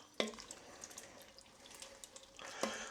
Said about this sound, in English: I'm just going to add a little splash of water to that